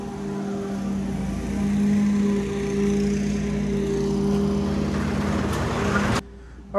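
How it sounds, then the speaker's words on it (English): A lawn mower drones steadily nearby outdoors, loud and continuous with a slight rise and fall in engine pitch, then cuts off abruptly near the end. "the lawnmower's coming out right when we start."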